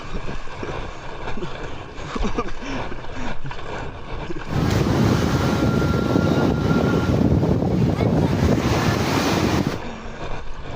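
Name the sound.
big ocean waves and strong wind around homemade kayak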